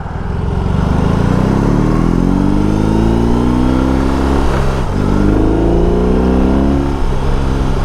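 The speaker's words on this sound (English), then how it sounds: "I can definitely feel the torque on the machine. And even with the stock exhaust, I like the rumble" A 2022 BMW R 18 Transcontinental touring motorcycle on its stock exhaust, its big engine rumbling loud and close as revs climb, dip briefly mid-way, then rise again under acceleration.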